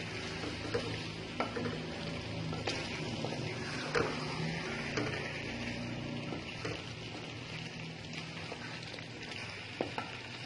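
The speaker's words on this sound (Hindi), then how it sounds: "इसको बहुत ही अच्छे तरीके से मिक्स कर लेते हैं।" A spoon stirs potatoes into keema in a pan for dhaba-style aloo keema, with repeated scraping and clinking over a steady sizzle and occasional sharper knocks.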